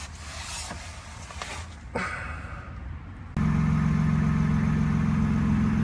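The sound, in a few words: 2024 Ford Ranger idling with Flowmaster 40 Series exhaust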